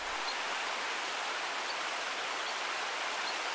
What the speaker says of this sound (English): it's a beautiful creek.